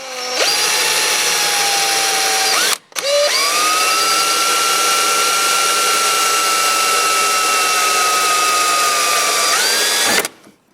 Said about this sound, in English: I'm going to drill myself a little hole.